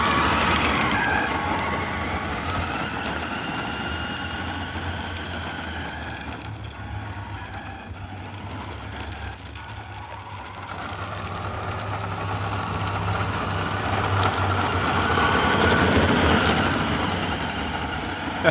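A New Bright 1/6-scale 12-volt Cadillac Escalade RC car runs its electric motor in a steady, loud whir that rises and dips slightly, with no voices.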